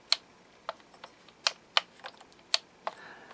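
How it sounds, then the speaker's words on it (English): Sharp clicks from the steering switches of a JJRC Q45 ClimbMax toy RC crawler's radio transmitter, about nine distinct clicks in an uneven rhythm, close and clear with no talking. "you can hear a click when I turn it"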